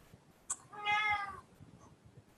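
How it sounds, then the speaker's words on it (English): A house cat meows once, a single drawn-out, fairly clear call in a quiet indoor room, with a soft click just before it. "the cat's just, she won't stop meowing tonight."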